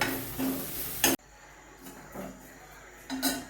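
Grated coconut and spices, such as coriander and chili powder, being stirred and roasted in a pan over a medium flame for a Kerala theeyal: bursts of close scraping and stirring, with a quieter pause in the middle.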